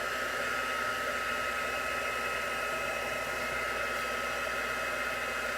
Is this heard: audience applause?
no